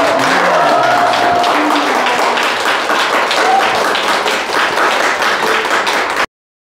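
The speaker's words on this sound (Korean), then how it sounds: "선생님께 다시 한번 큰 박수 부탁드립니다." A lecture audience in Daejeon claps for the speaker, a dense, steady wash of many hands that stays loud and close for about six seconds before stopping abruptly, with faint voices or a tone threading through its opening moments.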